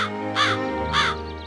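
A cartoon crow caws twice, two loud, harsh calls about half a second apart over a steady musical background, with no talking.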